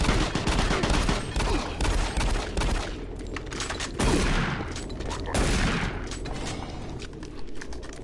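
Shotgun blasts and heavy gunfire from the video game Doom 3, a rapid series of loud booming shots with bursts of crackling fire throughout, under some faint game noise.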